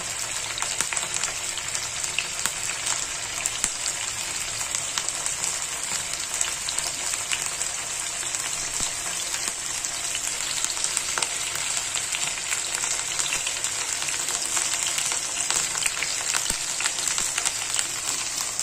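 Paneer and capsicum (shimla mirch) frying in a pan for paneer tandoori, a steady close sizzle and crackle that holds evenly throughout with no talking.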